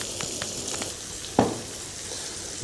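Crushed chilies, turmeric, ginger and whole spices frying with onions in a pan for a masala curry, a steady close sizzle with light stirring scrapes and one sharper burst partway through.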